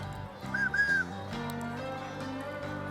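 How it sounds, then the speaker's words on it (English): A Revolutionary War officer's whistle sounds in a short two-part shrill blast in a frontier setting, heard over background music. "Bailey uses his officer's whistle to playfully distract Ann just as she's about to fire."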